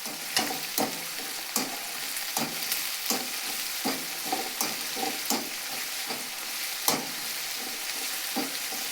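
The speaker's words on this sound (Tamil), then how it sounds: "இதை கிண்டணும்." A spoon scrapes and stirs a green mango dish sizzling in a hot pan, with repeated sharp scraping strokes at an uneven rhythm over a constant close frying hiss.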